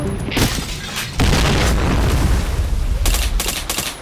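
Grenade blasts in a military shooter video game, heavy booming explosions with a brief gap and then a long rumbling roar, followed by crackling bursts of gunfire close by.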